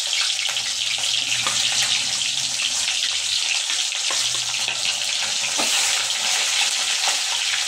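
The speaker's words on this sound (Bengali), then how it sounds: "এবার আস্তে আস্তে মাছগুলো ভেজে নেবে।" Pieces of fish fry in hot oil in a pan for a fish curry with potato and cauliflower, a loud, dense, continuous sizzle and crackle with occasional stirring clinks, close up and without talk.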